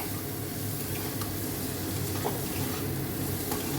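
Salted food frying in a pan is stirred, producing a continuous soft sizzle with light scraping from the utensil. No one talks.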